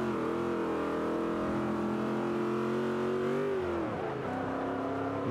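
Car engine racing in the Forza Motorsport 5 video game, a modern muscle car holding a steady, loud droning whine that dips briefly as revs drop, then climbs again, with no voices.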